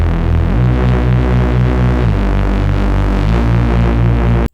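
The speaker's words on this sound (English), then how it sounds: "here I've got a classic Reese sound that I've just made in phase plant" A thick, sustained Reese bass synth made in Phase Plant drones with a slow, throbbing detuned phasing, shifting pitch a few times before cutting off abruptly at the end.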